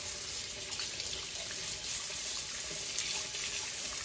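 Tap water runs steadily into a kitchen sink while a bread pan is washed with a sponge, a continuous bright hiss with faint clinks.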